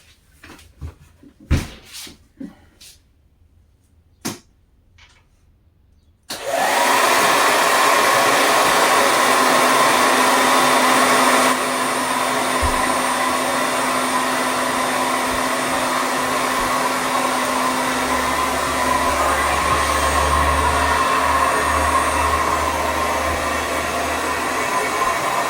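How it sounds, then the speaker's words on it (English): Hair dryer used to dry a painted handmade greeting card: a few taps and handling knocks, then the dryer switches on abruptly and runs as a loud, steady close whoosh to the end. "there goes our dryer on"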